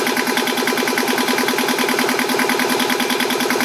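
A Yanmar marine diesel engine runs steadily at close range, a loud, even chugging idle with a regular knocking pulse that continues without a break.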